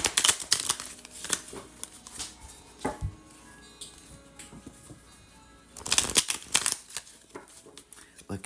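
Tarot cards being shuffled by hand, with crisp riffling bursts and taps separated by quieter stretches, close and fairly faint with no talking.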